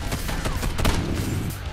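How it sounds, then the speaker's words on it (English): Rapid bursts of light, popping gunfire from pistols and shotguns crackle continuously over a busy soundscape in the video game Condemned 2, thin and snappy rather than heavy. "Pistols and shotguns sound like cap guns"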